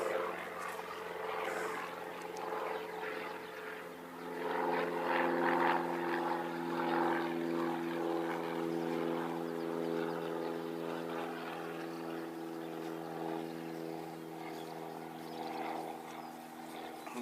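Flight NZ746 from Dunedin arriving at Christchurch Airport, heard as a steady, droning aircraft engine hum with a tonal whine that holds at a distance, swelling slightly midway, with no voices.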